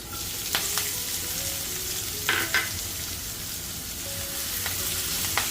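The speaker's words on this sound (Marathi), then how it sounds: "छान परतून घ्यायचं आहे कांदा" Finely chopped onion sautéing in hot oil with asafoetida and curry leaves for upma, a steady close sizzle broken by a few stirring clinks and scrapes.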